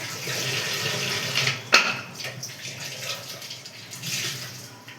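Water running from a kitchen tap while washing up, a steady close splashing rush with brief clatters and surges of spray.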